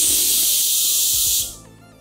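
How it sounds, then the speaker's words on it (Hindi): Small Softel pressure cooker releasing steam through its whistle valve, a loud continuous hiss that cuts off abruptly after about one and a half seconds, leaving a faint fading rumble. "चलिए 2 सीटियां होने तक इसे पका लेते हैं"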